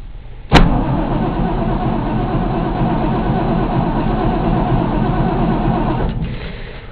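A 1971 Ford F-100 truck engine cranks and catches on a cold start with a sharp onset, then runs loud and steady near the microphone for about five seconds before cutting out.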